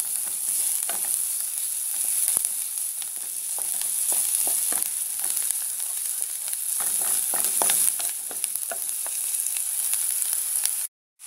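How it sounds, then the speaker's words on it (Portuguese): Onion and garlic frying with ground meat in a pan, a steady close sizzle with scattered crackles and occasional stirring scrapes, continuous until it cuts off abruptly at the end. "Eu gosto de deixar fritar bem a cebola e o alho."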